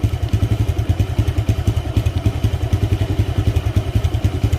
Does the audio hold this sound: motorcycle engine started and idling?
yes